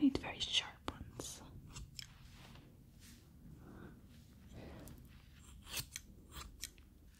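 Crisp snips of scissors close by, several quick cuts near the start and more scattered through, under soft whispered talk.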